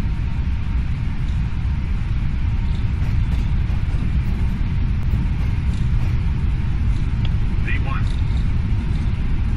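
Steady roaring engine and rolling rumble of a Boeing 777 accelerating down the runway on a takeoff roll in the Prepar3D flight simulator, continuous and loud throughout with no spoken words.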